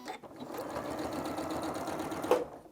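A home sewing machine stitches the corner of a quilt in one continuous, close, rapid whirring run lasting a couple of seconds.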